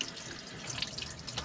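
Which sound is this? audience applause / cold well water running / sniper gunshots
cold well water running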